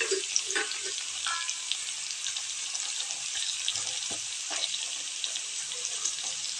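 Chopped onions fry and sizzle steadily in hot oil with no added water, a dense crackling hiss that fills the whole stretch, with occasional soft stirring knocks close by.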